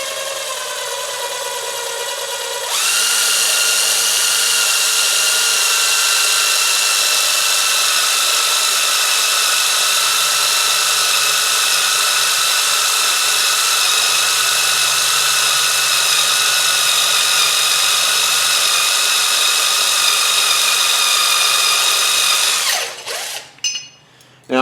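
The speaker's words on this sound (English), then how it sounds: "So I'm drilling about a 1/2 inch deep" A power drill bores about half an inch into a bolted rivet on a 1995 Ford F350 mirror mount, its steady high whine running loud and unbroken for about twenty seconds before cutting out.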